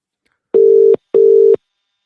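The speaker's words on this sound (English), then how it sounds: "It feels like an age when you're ringing these numbers" A telephone ringing tone sounds while a phone-in number is called, two identical steady electronic bursts of about half a second each, separated by a short silence, loud and clean.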